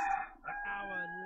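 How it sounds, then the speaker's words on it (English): A rooster crows in the background, a drawn-out tonal cock-a-doodle-doo with a brief dip midway, moderately loud and clear, with no talk over it. "Sorry about the rooster in the background."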